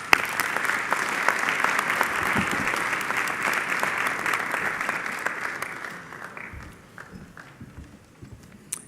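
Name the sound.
applause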